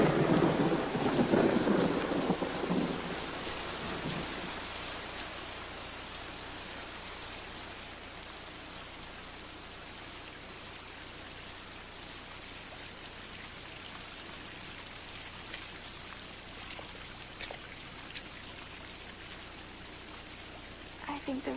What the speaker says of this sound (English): I think the rain is stopping.